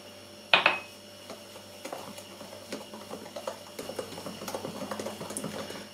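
Cocoa being mixed into semolina cake batter in a bowl, opening with a sharp clink of a utensil against the dish, then a run of soft, irregular scraping and tapping strokes, close and alone with no speech.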